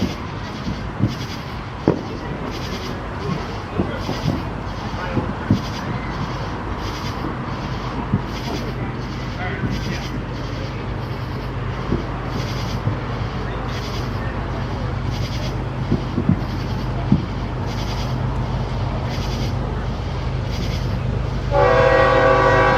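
CSX freight train with several engines approaching northbound at Marietta, Georgia, a low continuous rumble building steadily, with repeated sharp clanks and a brief horn-like tone near the end.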